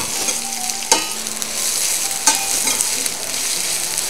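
Sliced onion sizzles in ghee in a pan, giving a close, steady crackling fry with a couple of sharp clinks as it is stirred. No one talks.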